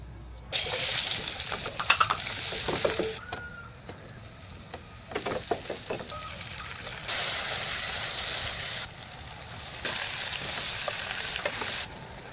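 Food sizzling and frying in a pan in a home kitchen, in bursts of crackling hiss interrupted by stirring clatters and short pauses, close and fairly loud.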